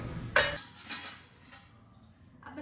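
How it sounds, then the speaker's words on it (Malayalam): A metal vessel and a spoon being picked up, heard as two quick close clinks of metal on metal followed by a faint clatter, set against a quiet kitchen background. "അപ്പൊ ദേ പാത്രം എടുത്തു"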